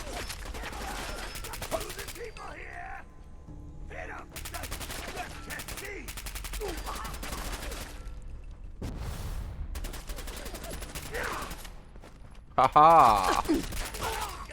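Gunfire in the game Fallout 4: bursts of rapid automatic shots and scattered single cracks, loud and repeated, with someone talking and laughing over the shooting.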